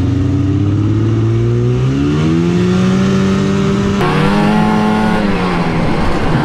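A Yamaha VK 540 two-stroke snowmobile engine revs loudly and close in the Bucegi mountains, its pitch climbing and falling through several throttle sweeps with a sharp shift partway through, buzzing continuously.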